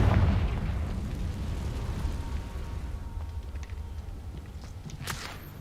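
Confringo blasting spell in Hogwarts Legacy: a deep booming explosion at the start, rumbling and decaying over several seconds with scattered crackles and small pops, moderately loud and alone.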